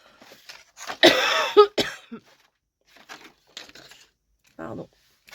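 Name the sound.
cough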